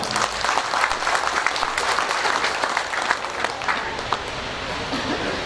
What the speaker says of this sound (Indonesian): mari tepuk tangan kita bersama untuk kita semua